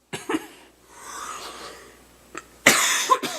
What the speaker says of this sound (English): I have to cough so much because that was, to me, just so hilarious.